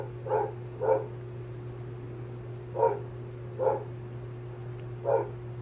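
A dog gives five short barks, two in quick succession, then three spaced about a second apart, moderately loud over a steady low electrical hum, with no talking.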